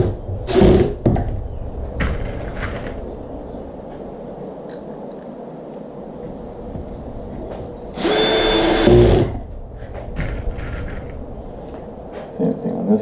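A power drill drives 1 1/4 inch pocket hole screws into a wooden dining chair frame, two short close whirring bursts near the start and a longer loud burst later, with quiet shop handling between.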